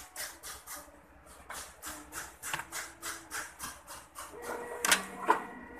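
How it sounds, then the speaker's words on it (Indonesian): An inkjet printer feeding and printing a page on recycled paper: steady rhythmic mechanical pulses from the print head carriage at close range, ending with a few sharper clicks and a brief whir as the sheet moves. "Nah, kita print."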